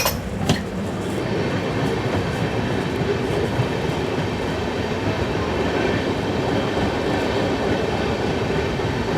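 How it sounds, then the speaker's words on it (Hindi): A train rolls steadily past at Dharwad station on the route toward Bengaluru, a continuous loud rumble of wheels and carriages heard from aboard another train, with a brief clatter near the start. "इधर शायद कोई ट्रेन है।"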